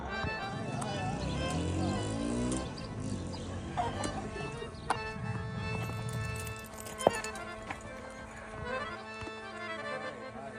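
Horses clip-clopping along outdoors, hoof beats in a steady rhythm at moderate distance, mixed with voices and other outdoor noise.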